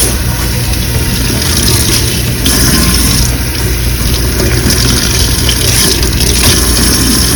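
Tap water runs steadily into a sink as hands are rinsed under the faucet, a continuous loud splashing rush with no talking.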